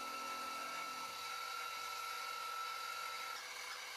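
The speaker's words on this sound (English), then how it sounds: "Holes for the banjo or anchor fasteners are then milled into the profile." A milling machine drills fastener holes into an aluminium profile, a steady high whine with a sustained tone that cuts off near the end, over a constant mechanical drone.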